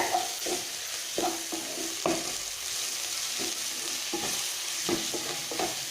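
Onion and capsicum sauté in masala in a pan for shakshuka, a steady sizzle with repeated scraping stirs at an uneven rhythm, close and fairly loud, with no speech.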